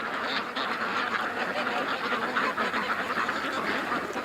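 A dense flock of ducks quacking continuously on a lake, a steady overlapping chorus of calls at moderate distance with no talk.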